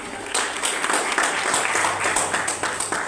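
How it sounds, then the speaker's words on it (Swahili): Applause for a president being introduced at a gathering, a round of moderate clapping from a small crowd starting abruptly and continuing evenly with individual claps audible, fairly close. "Tupigie makofi."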